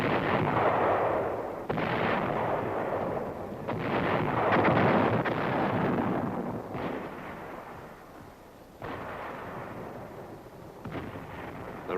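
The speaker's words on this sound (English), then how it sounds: "Artillery and mortar fires supported the advance." Artillery and mortar fire supporting an infantry and tank advance, a series of deep, heavy booms with long rumbling tails that overlap into a continuous roar, some blasts starting abruptly.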